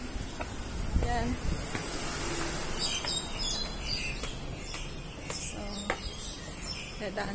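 Birds chirp in an urban park near an MTR station, clusters of quick tweets rising in the second half over a constant low hum of city traffic, moderately loud.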